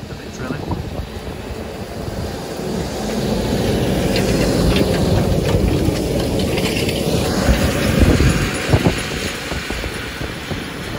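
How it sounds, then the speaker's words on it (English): Tractor drilling in a farm field, recorded close up: a loud, steady engine rumble with mechanical clatter that swells midway, with no talk over it. "I know big kids and little kids like tractors, so here's a close up of it drilling."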